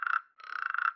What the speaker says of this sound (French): Oh mais qu'est-ce que c'est cet animal? Bonjour, et c'est une grenouille.